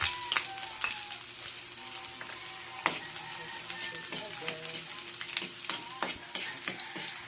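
Snails (kuhol) sauté in a hot pan, a steady close sizzle broken by scraping stirs and clinks of a utensil against the pan, continuing for several seconds.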